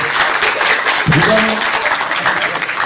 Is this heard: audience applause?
yes